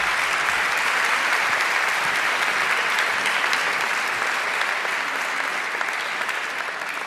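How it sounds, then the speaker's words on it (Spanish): Sustained, dense applause from a large audience at a national canoeing gala, greeting an award recipient. It stays loud and even for about seven seconds, easing slightly at the end. "Un aplauso fuerte para él."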